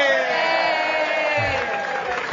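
A live audience at a comedy tabletop game show erupts in loud cheering and whooping, a dense sustained crowd roar filling the short moment.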